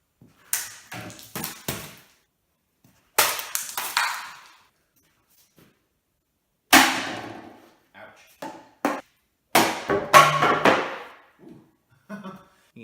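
A handmade two-handed pole machete chops into a target in a series of sharp, loud strikes, each cut ringing briefly and separated by pauses of quiet, close to the listener.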